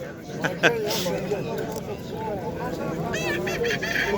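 Chickens and other fowl cluck and squawk at a busy poultry market in İzmir, with honking calls breaking through a constant bed of close, overlapping human chatter.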